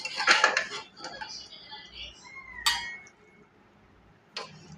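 Cabbage and chana dal curry is scooped from a pressure cooker into a bowl, with scraping and clinking of a metal spoon against the pot, then a pause and one more clink.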